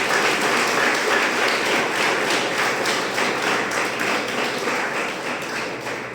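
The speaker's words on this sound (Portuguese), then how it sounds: "Aplauda o Senhor por isso" A church congregation claps together during a sermon, sustained and fairly loud, with the clapping easing slightly toward the end.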